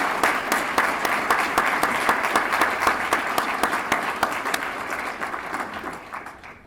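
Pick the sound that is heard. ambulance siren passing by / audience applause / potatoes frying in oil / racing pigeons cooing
audience applause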